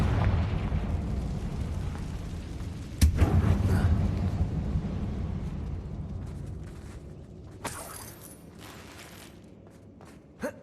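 A Confringo blasting spell detonates in Hogwarts Legacy: a loud booming burst at the start of a rumbling, game-mixed soundscape, with a second sharp blast later and a final pop near the end, no voices.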